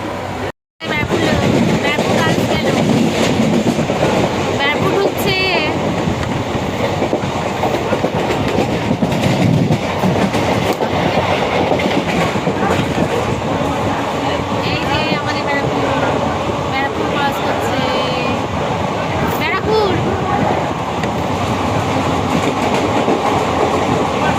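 A moving suburban train near Naihati, India, with rail car clatter and rhythmic clickety-clack of wheels running loud and steady throughout, after a brief dropout at the start, with occasional voices under the din.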